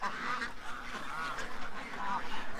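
A flock of ducks quacks and honks in overlapping, uneven bursts close by, forming a busy, continuous chatter of calls.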